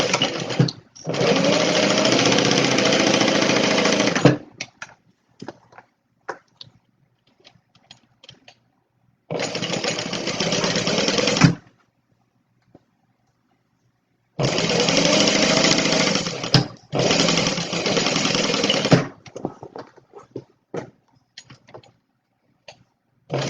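Sewing machine stitching a Stella Weekender bag, running in three long bursts of several seconds each with quiet pauses and small handling clicks between them.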